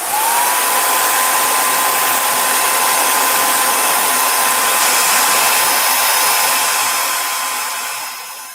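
A heat tool blows hot air onto a card craft piece in a loud, steady whoosh with a faint whine, holding constant for several seconds before tapering off.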